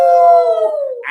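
A human voice imitates a dog howling in a fairy-tale reading: a single loud, sustained, wavering howl that slowly falls in pitch before trailing off.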